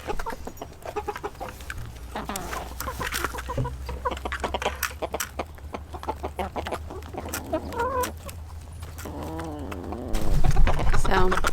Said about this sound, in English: we just have 10 hens in this front flock, and then there's 3 roosters in with them